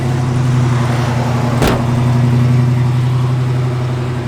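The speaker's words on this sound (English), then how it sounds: "that idle should come down a little more" A 1965 Ford Mustang 2+2 idles close by with a loud, steady, slightly high idle. A single sharp click cuts through the engine drone partway through.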